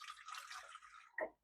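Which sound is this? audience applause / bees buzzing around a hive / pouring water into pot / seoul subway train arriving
pouring water into pot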